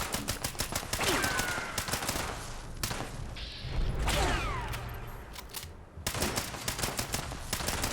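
Video game gunfire in Fallout 76, rapid bursts of shots crackling in quick succession, pausing briefly mid-clip for a mechanical whoosh, then resuming with more rapid firing.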